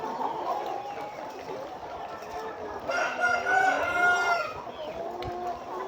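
A rooster crows at a poultry breeding farm, a clear mid-distance call rising over a background of clucking fowl and faint farm ambience, with soft voices in the background.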